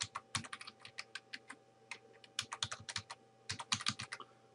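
Rapid, uneven typing on a computer keyboard while a password is entered, close and clear, in short bursts of keystrokes with brief pauses and no talking.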